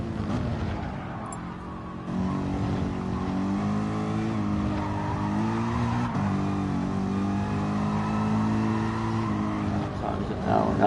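A Group 3 race car engine in a sim racing game drones steadily through a fast lap at Catalunya, with a sustained tonal whine and gear shifts, a rise in pitch around two seconds in, with no talk.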